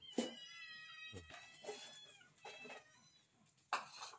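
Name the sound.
cats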